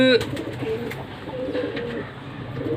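Low, soft pigeon coos repeat through the clip, close by, from birds held in the hand, over a steady background hiss.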